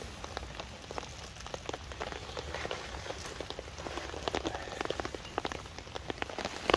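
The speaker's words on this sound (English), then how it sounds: "Well, rain's still coming down." Steady rain pattering on a tarp shelter at a wild camp on a disused railway viaduct, a dense, continuous patter of close droplets with no voices.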